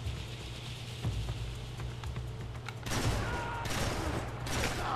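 Gunfire from the video game Max Payne 3 crackles as a sustained, dense fusillade of shots over a constant low hum, loud and continuous throughout.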